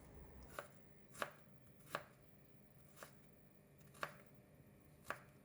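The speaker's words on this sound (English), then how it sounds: "Cut all the ginger into thin slices before cutting it again into long strips." A knife cuts ginger into thin strips on a board, giving six crisp, evenly spaced chops about a second apart, close and alone.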